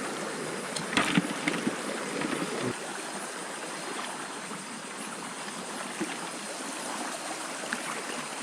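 A strong river current rushes steadily and fairly faintly through the whole stretch, a broad continuous wash with a few splashy bumps near the start and no speech.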